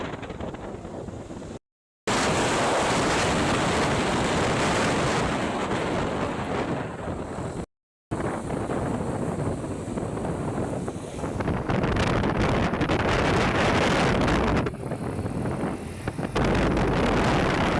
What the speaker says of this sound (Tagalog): Sobrang lakas ng hangin talaga guys, napakalamig.